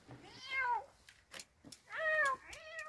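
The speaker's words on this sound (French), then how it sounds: "ce n'est pas un mais deux chats noirs qui l'attendent" A black cat meows twice, each a drawn-out nearby call, with a few soft clicks and taps between them.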